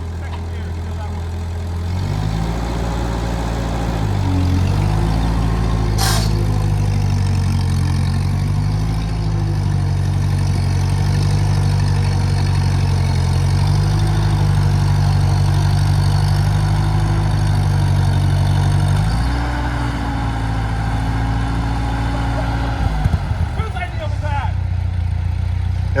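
A Ford 9N tractor engine drives in low range, second gear through a swamp, a steady low chug at close range that holds loud throughout, with a brief shift in pitch near the end.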